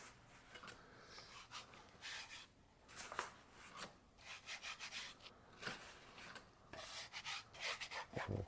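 Flour being rubbed around the inside of a banneton proofing basket for sourdough, heard as soft, irregular brushing and scuffing strokes close by, with no talking.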